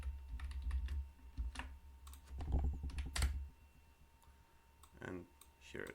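Someone types code on a computer keyboard, producing bursts of quick, close key clicks with short pauses between runs.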